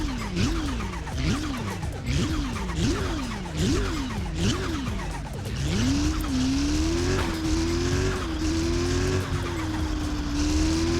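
Car engine revving and tires squealing in the driving game Car Parking Multiplayer: a series of rising and falling rev sweeps, then a sustained higher engine drone with skidding tire noise, loud and continuous with no talk.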